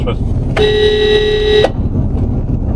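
A van's horn on a road in Australia gives one steady honk of about a second, loud and close over continuous engine and road noise.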